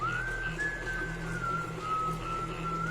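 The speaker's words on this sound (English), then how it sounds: "It was a soft, melodic whistling." Soft melodic whistling at night near a camping tent, a single steady sustained tone that glides gently up and down, heard alone over a quiet background hiss.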